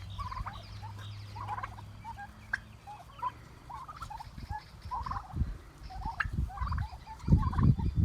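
A flock of 27 farm turkeys in the morning, repeated bursts of gobbling from several birds at moderate distance over low rumbling and shuffling noise, no talk.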